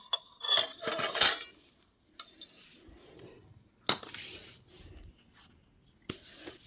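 A sesame-peanut chikki slab is cut into pieces in a pan, giving a few sharp metallic clinks and scrapes in short bursts separated by quiet pauses.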